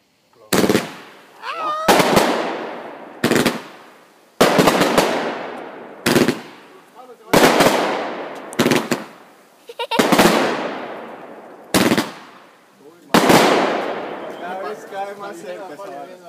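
A series of loud backyard firework bursts, about nine sharp booms spaced a second or two apart, each followed by a crackling, fading tail.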